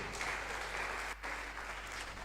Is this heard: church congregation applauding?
yes